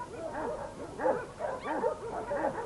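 A young sheepdog pup on a dog breeding farm gives a rapid series of high, yappy barks and yips, close and moderately loud, in quick irregular bursts with no talk.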